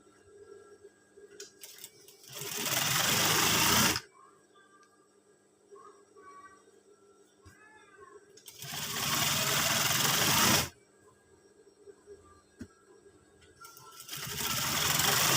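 A sewing machine stitches a scout uniform in three loud bursts of a few seconds each, with quieter pauses and small handling noises between them.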